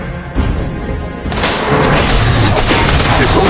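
A heavy boom as a turret is destroyed in the mobile battle game Mobile Legends, loud and close, followed by a dense sustained rumble of game effects and clashing.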